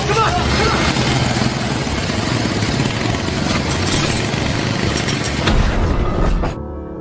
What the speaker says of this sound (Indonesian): mesin itu berhasil menyala, namun baru sebentar mesin itu pun meledak